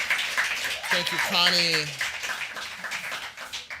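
Poetry festival audience applauding a reader with a steady wash of clapping, while a voice briefly thanks the poet over it before the applause thins out.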